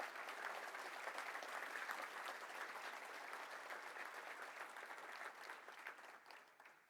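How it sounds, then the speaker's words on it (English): An audience applauds sponsors listed in a commemorative booklet at a Rotary gathering, steady clapping throughout that thins and fades toward the end, with no voices over it. "Could we please give them all a round of applause?"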